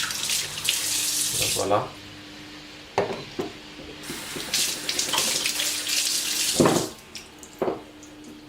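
Tap water runs into a sink while parts of an H Koenig GSX12 juicer are rinsed, a steady splashing flow broken by brief clatters and pauses, with someone speaking briefly over it.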